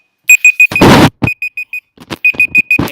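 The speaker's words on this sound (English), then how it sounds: "that's my laptop. I don't know why it's making that noise" Laptop sounding a shrill, rapid alarm-like beeping in regular bursts of four to five beeps, loud and near, broken up by thumps and handling noises between the series.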